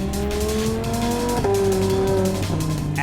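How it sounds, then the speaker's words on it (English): Lamborghini Huracan V10 engine revs hard on a narrow mountain road in Ladakh, loud and close, its pitch climbing, dropping between gear shifts, then rising again. "The sound of the V10 ricocheting off the mountainside is magic."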